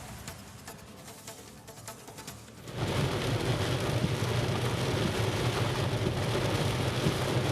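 Heavy rain pours down in Yelahanka, Bangalore, a dense, steady roaring hiss that swells sharply louder after a quieter opening and stays constant, with no voices.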